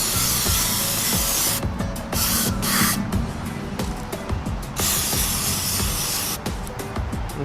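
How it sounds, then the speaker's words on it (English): Loud, close hissing spray from an aerosol cleaner can onto a Jeep Wrangler throttle body in several long bursts, broken by short pauses, over a background mechanical hum. "Now I'm gonna spray a little bit from this side too."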